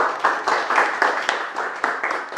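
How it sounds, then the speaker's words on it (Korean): An audience claps together on request at a talk about a Korean sijo poem, a dense, even patter of many hands held steadily for a couple of seconds at moderate volume, with no voices over it. "박수 한번 쳐주시죠"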